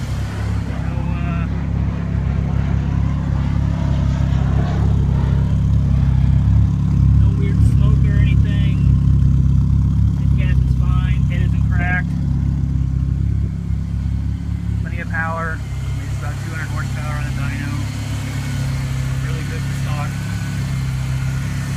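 A 2.3-liter turbocharged car engine runs at a steady idle, a continuous low rumble that stays even throughout, with voices talking faintly over it in places.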